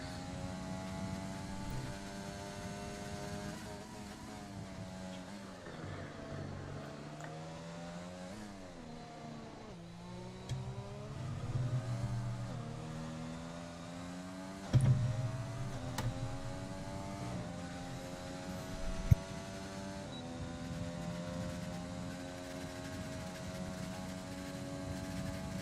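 An AlphaTauri Formula 1 car screams through a hot lap of the French Grand Prix in a racing video game, its engine note climbing and dropping steadily with repeated gear shifts, loud and continuous without pause.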